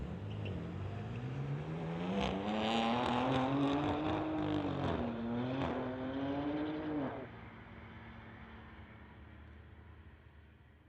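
A BMW and a Ford truck drag race down the strip at a street-legal event. Engine note climbs steadily in pitch over several seconds, loud but at some distance, then cuts off abruptly and leaves a quieter background.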